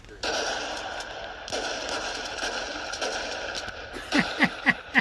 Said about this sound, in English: When shotgun blasts herald in Serbian Christmas.